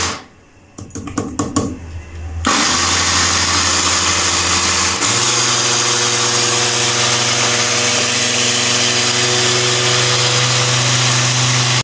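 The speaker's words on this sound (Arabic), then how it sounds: "بعد ما طحنته في المطحنه بتاعت الخلاط" Clicking and tapping at first, then a blender's loud, steady grinding motor starts up, grinding mustard seeds continuously, its pitch shifting slightly partway through.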